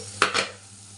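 Stirring egg curry in a frying pan: two quick scraping strokes of a spoon against the pan, close and crisp, over a faint low hum, with no talk.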